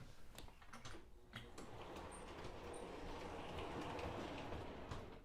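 An O gauge model train rolls steadily through a track switch, a continuous rumbling clatter of wheels with faint clicks, fairly close and sustained throughout.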